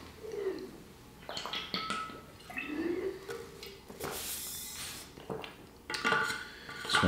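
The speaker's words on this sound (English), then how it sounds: "now I must drink out of my genie bottle" Water gulped from a large 1.5-liter bottle, with a series of close, wet swallows and sloshing glugs in uneven bursts over about seven seconds, no talking.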